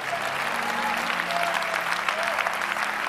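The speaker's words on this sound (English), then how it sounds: "Give the Lord a mighty clap." A church congregation claps together in a sustained, even burst of applause, moderately distant and filling the room without talk over it.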